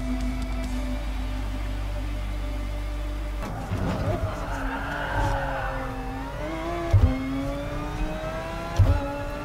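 A race car engine in GT Sport drones steadily, then revs up and down through changing pitch, with short bursts of tyre noise toward the end.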